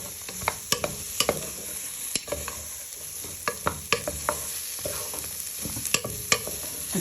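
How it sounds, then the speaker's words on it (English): Chopped ingredients stirred and tossed in a hot pan with onion and garlic, sizzling steadily with scattered scraping clicks of a utensil against the pan, close and moderately loud. "You just want to give these a little toss in with your onion and garlic"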